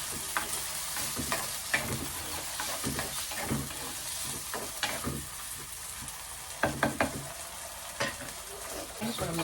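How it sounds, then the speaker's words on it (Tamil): Sambar shallots, about a quarter kilo, sautéing in a pan with a steady low sizzle and intermittent scraping stir strokes throughout, fairly quiet with no talking. "இது நல்லா வதங்கணும்."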